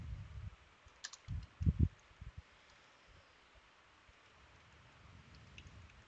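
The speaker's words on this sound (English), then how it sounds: "I'm just simply hitting my keyboard." Computer keyboard keys pressed in a short cluster of soft taps, quiet and close, followed by near silence with a few faint clicks.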